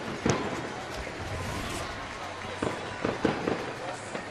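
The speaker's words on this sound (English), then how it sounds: "Fireworks going here" Fireworks bursting over a baseball stadium after a Pittsburgh Pirates win against Colorado, several sharp cracks and pops scattered through a steady crowd roar.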